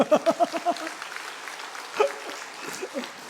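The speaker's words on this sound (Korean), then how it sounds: "우리 박수 한번 칠까요?" Church congregation clapping in a short burst of a few claps that soon fades, followed by scattered sparse claps while a voice talks.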